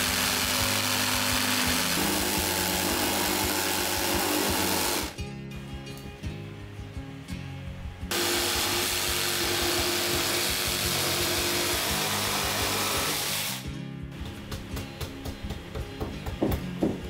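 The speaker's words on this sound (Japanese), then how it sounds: "本当にジグソーっていい仕事してくれますよね" A jigsaw cuts a curve through board for a compact entryway arch, a dense buzzing whine running steadily in long stretches, broken by two short pauses where the blade slows and restarts, close and loud.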